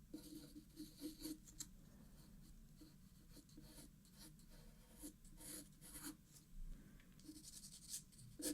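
A graphite pencil sketches a Triceratops dinosaur on paper, soft scratchy strokes and rubbing in an irregular rhythm, very quiet and close.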